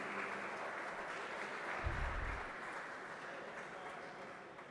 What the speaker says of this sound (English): A big round of applause, my friends, as the traditional lamp is being lit at the hands of the dignitaries